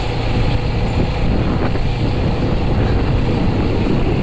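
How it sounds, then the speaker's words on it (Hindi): A TVS Apache 200 motorcycle rides along an empty road in the morning, with a steady, loud roar of engine and rushing wind that continues throughout. "मेरी बाइक है अपाची 200"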